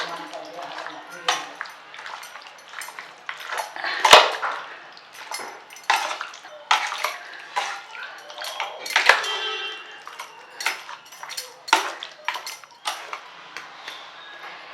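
Chicken pieces being mixed by hand with curd, salt, kasuri methi, ginger-garlic paste and pepper powder in a bowl for a Bengali white chicken curry, giving irregular soft squelches and light clinks against the bowl, with a voice speaking over it.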